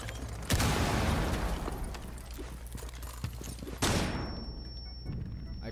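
A flashbang grenade goes off in Rainbow Six Siege: a loud sharp blast followed by a second bang and then a muffled aftermath with a high steady ringing tone, amid gunfire and game noise.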